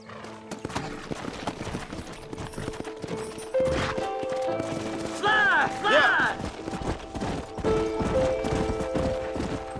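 Rhythmic clip-clop of horse hooves with a couple of whinnies, alongside music and other game sounds, in Red Dead Redemption.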